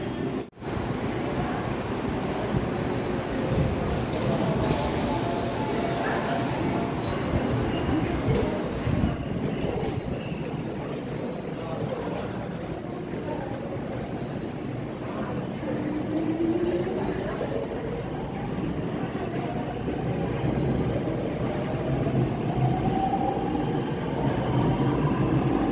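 A Seoul metropolitan subway train running, a loud continuous rumble of wheels on rails with rising whine and occasional squeals, sustained throughout.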